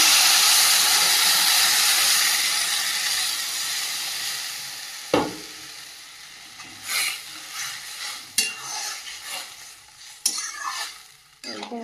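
Water poured onto sautéed okra and vegetables in a hot pan, a loud steamy hiss that slowly dies down, followed by scattered stirring clanks and scrapes.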